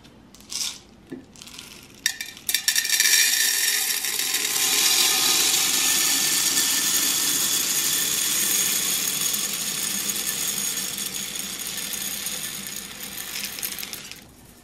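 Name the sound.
scent booster being decanted into a container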